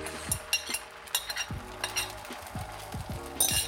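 Egg for omurice fries and sizzles in a pan over lowered heat, with close scraping and tapping of a utensil against the pan in quick irregular strokes, no voices.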